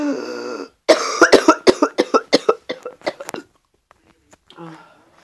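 A person with an upset stomach coughs hard in a rapid run of about a dozen harsh, close coughs, preceded by a brief vocal sound and fading into quiet breathing.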